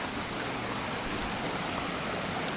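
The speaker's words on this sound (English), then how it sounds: "definitely the best stream that we've seen so far" Steady, broadband rushing of a mountain stream flowing over rocks in the Great Smoky Mountains, continuous and even with no pauses or voices.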